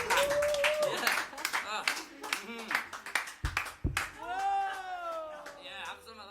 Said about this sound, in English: You just love it when they cheer Radio Care, don't you?